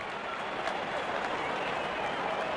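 A stadium crowd at a World Cup cricket match between India and Afghanistan applauds and cheers a batter's half century, a dense, steady roar of clapping and noise throughout, with commentary talk mixed in.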